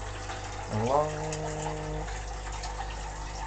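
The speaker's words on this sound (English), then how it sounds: "As you can see, the water's flowing at the moment." Water running through a pumped, tiered hydroponic growing setup, filling the top tray and draining down into a sump, a steady low wash under a brief spoken word and a rising tonal sweep.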